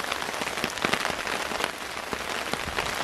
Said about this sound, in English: It's really raining though, for real, and the temperature's dropping fast.